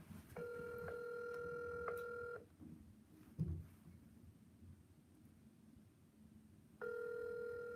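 An outgoing phone call rings unanswered, two ringback tones with a long silent gap between them, faint and thin with a little background noise.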